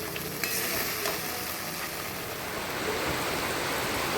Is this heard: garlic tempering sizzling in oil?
yes